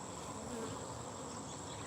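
Wild bees buzzing around an open beehive during honey extraction: a steady, even hum of many insects close by, faint and continuous, with no talking.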